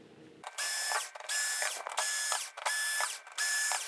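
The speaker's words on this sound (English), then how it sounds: "Let's get the screws out and this should come away." A motorized screwdriver backs screws out of the main board of an LG OLED77C9PUB OLED TV, with five whirring bursts separated by short pauses, close and clear with no talking.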